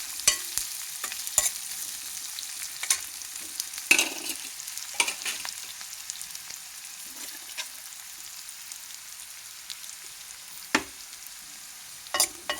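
Spice tempering sizzling in hot oil for perugu vadalu, with sharp crackles and pops scattered over a soft, steady frying hiss, close up and with no voices.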